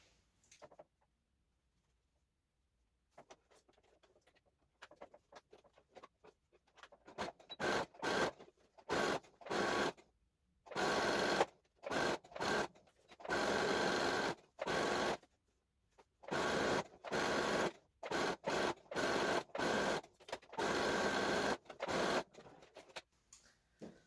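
A sewing machine runs in repeated bursts of stitching, stopping and restarting as it sews a seam all the way around fabric for a rabbit-shaped basket, leaving an opening for turning; the stitching is steady, fairly close and heard without speech.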